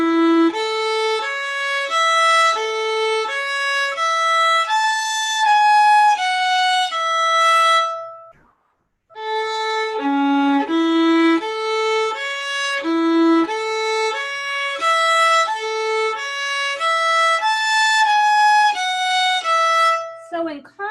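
Solo piano plays a passage from the Black and White Rag slowly, with bright ragtime figures and low bass notes, a brief pause in the middle, then the phrase repeated, up close and with no talking.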